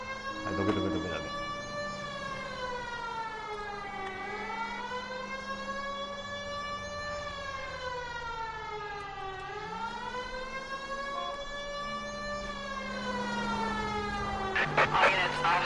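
Police car siren in the video game L.A. Noire, a steady wailing tone that rises and falls in long, slow sweeps, loud and continuous throughout with a faint rumble of traffic beneath.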